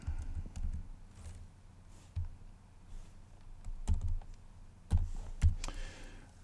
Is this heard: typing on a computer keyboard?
yes